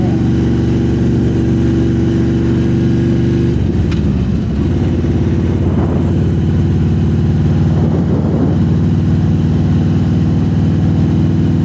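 A loud motorcycle engine drones steadily up close, its exhaust rumbling with a few shifts in pitch as the bike rides along.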